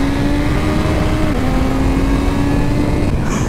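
A 2023 Triumph Street Triple RS and a KTM 890 Duke R launch hard in first gear, one lifting into a wheelie, making a loud steady engine roar with a single rising tone that briefly dips, close to the listener, with no talk.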